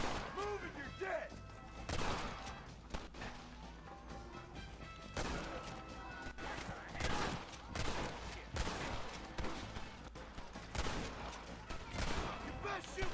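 Rapid gunfire in the Western video game Red Dead Redemption, bursts of sharp shots and cracks coming in irregular clusters, fairly quiet overall, with voices talking between them.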